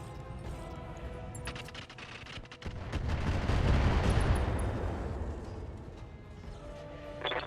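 Mech weapons fire in Roguetech, a BattleTech game mod, as a salvo of missiles is launched. A dense, rumbling barrage of rapid impacts and blasts swells to a loud peak and then fades, with no voices.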